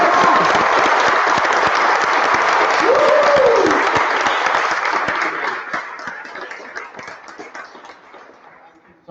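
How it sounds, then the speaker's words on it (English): Loud audience applause and cheering fill an awards ceremony hall, a dense sustained wash that gradually thins and fades toward the end. "So please give a big round of applause for"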